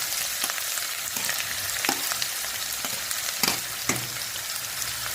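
Chopped onion frying with lightly roasted garlic in hot oil for Indian-style chatpata chicken, a loud steady sizzle up close with sharp clacks of a spoon stirring against the pan.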